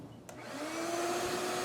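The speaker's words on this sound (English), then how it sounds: "I grabbed a shop vac and sucked up the debris from the bottom of the air filter box" A shop vac draws steady suction from the bottom of the air filter box on a 2021 Mercedes GLC 300 with an M264 engine. It is a continuous close whine and rush with a faint rising tone and no speech.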